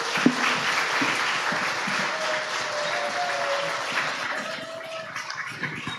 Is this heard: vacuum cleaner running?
no